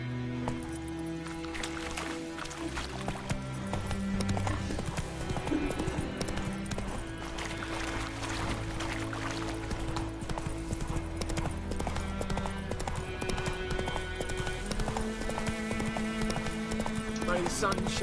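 Horse hooves clip-clop in a steady galloping rhythm throughout, set against game music and ambient sound in The Witcher 3, with speech present.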